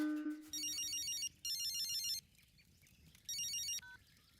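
A telephone rings with an electronic ringtone in three repeating trilling bursts, separated by short gaps, set against faint background hiss. The ringing is moderately loud and close.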